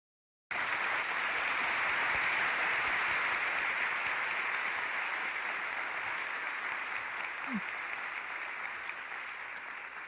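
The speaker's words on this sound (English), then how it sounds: "The audience clapping and cheering for her." An audience applauds and cheers for Coretta King after a speech, a dense, steady wash of clapping that runs for about ten seconds and tapers slightly toward the end, heard from some distance.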